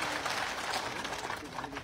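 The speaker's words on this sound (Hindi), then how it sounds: "जोरदार तालियां बजा करके आपका बहुत धन्यवाद" Crowd applause at a public outreach gathering in Sherani Abad, a dense, steady wash of clapping from many hands throughout, with voices faintly mixed in.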